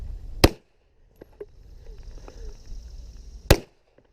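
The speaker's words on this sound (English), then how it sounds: "another reload because I need to go back for a couple of makeup shots" Two sharp pistol shots, about three seconds apart, fired as makeup shots at an IDPA shooting match at an outdoor club range, loud and close with quiet shuffling between them.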